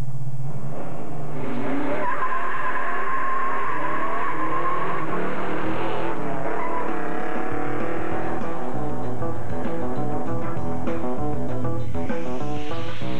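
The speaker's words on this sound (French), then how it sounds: "c'est pas tous les jours qu'on a la chance de rouler le véhicule où Gilles Villeneuve s'est marié" A 1971 Pontiac GTO with a 7.3-litre engine driving, heard as loud, steady engine and road noise with tire squeal and shifting tones throughout, close by and with no talking.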